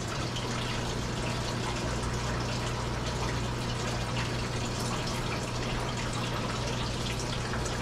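Water dripping and streaming steadily from a waterlogged piece of scrap material, a dense, continuous patter over a low background hum, close and unbroken throughout.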